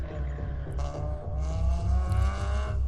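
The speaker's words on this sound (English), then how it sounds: "the cars and just the sound of engines closing in" Car engines in a tabletop podcast sound-effect bed, a steady low rumble with sustained tonal drone, building slightly louder as they close in, without speech.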